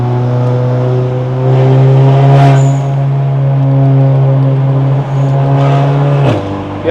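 A Volkswagen Passat B8 380TSI engine pulls hard up a mountain road, a loud steady drone with strong harmonic hum that holds its pitch before dropping near the end.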